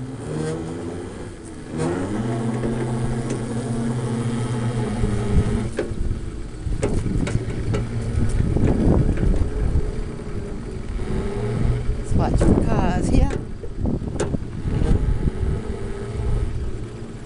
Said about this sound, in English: E-Lemonade with the 1800 watt 48 volt brushless motor test